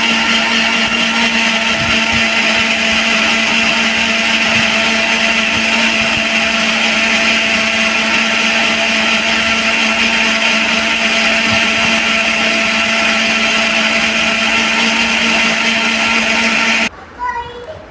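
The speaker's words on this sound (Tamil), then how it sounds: "நல்லா மிக்ஸியில் கிரைண்ட் பண்ணுறேன்." A mixie blender grinds hair pack ingredients with added water in a loud, steady, high-pitched whir that runs unbroken for about seventeen seconds before cutting off abruptly.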